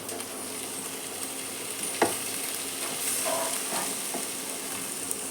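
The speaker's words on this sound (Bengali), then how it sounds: "সম্পূর্ণ চিংড়ি মাছগুলো তেলের মধ্যে দিয়ে দিচ্ছি।" Whole prawns, rubbed with salt and turmeric, frying in hot oil in a wok for a cabbage bharta, a steady close sizzle running throughout with a sharp spatula tap near the middle and a few softer scrapes after.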